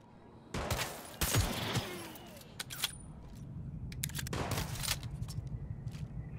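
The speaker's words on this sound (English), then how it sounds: "Is he shooting a shotgun at me?" Several sharp shotgun blasts ring out in a Cyberpunk 2077 firefight, irregularly spaced bursts with echoing tails, moderately loud against a low background rumble.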